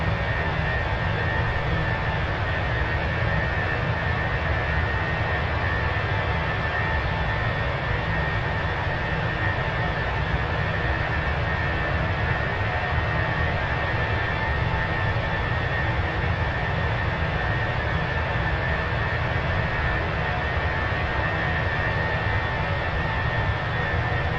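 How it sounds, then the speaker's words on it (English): A passenger airplane in flight from Greece to Slovakia, heard from inside the cabin as a constant loud engine roar with a broad steady hiss and a faint tonal hum, unchanging throughout. "we're flying from Greece to Slovakia, so nothing but beautiful land under us this entire flight"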